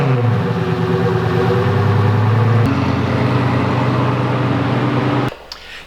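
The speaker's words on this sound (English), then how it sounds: "a 10-day cold startup on a 2006 Lamborghini Gallardo" A 2006 Lamborghini Gallardo engine cold-starts after sitting ten days, a loud, steady high-revving idle with a pitch drop midway, then cutting abruptly near the end to quieter ambient sound.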